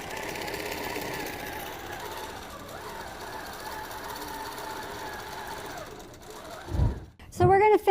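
Computerized quilting machine (QCT6 Pro) stitching a quilt, a steady mechanical whir running for about six seconds before dropping away, followed by brief clunks and a voice at the end.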